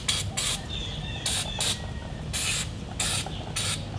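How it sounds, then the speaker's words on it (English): Cleaner sprays onto the brake calipers of a Harley to clear out brake dust, coming as a series of short, sharp hissing bursts, about six in quick succession, close up with faint background noise between. "I'm just going to clean the calipers to get the brake dust off from inside."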